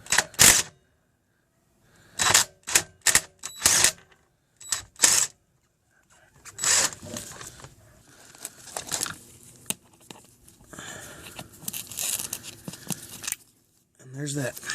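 A ratchet with a 19mm socket works a crankshaft damper bolt on a Ford Focus 2.0L SOHC SPI engine, giving bursts of quick clicking and clattering, close and loud, with pauses between, and a person talks over parts of it.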